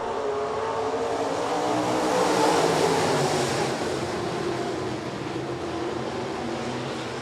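USRA B-modified race cars roaring at Rapid Speedway as a heat race goes green, a dense engine drone that swells as the pack passes and then fades slightly.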